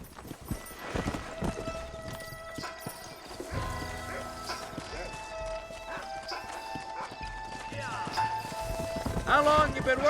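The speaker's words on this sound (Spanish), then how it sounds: "Monta a caballo." Horse hooves clip-clop steadily during riding in the Red Dead Redemption video game, set in the Old West, mixed with game music, ambient effects and a brief whinny, at moderate loudness throughout.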